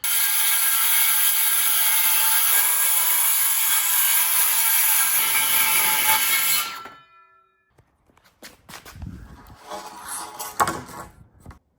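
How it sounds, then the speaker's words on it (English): A homemade track saw cutting through a piece of siding makes a loud, sustained high-pitched whine and grind for several seconds. It then stops abruptly, followed by quieter clunks and handling noises. "Got a bit of a homemade track saw situation here."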